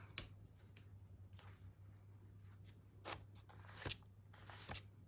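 Scissors snip around a paper flower being fussy cut for a junk journal, giving a few sharp, close cuts and soft paper rustles at irregular intervals over a low steady hum.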